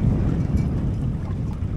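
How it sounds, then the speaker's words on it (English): Steady low wind rumble buffeting the microphone on a boat out on the water while fishing for triggerfish, a constant roaring noise filling the whole clip. "It's also really windy out, so I don't know if you can if there's a lot of noise on there or not"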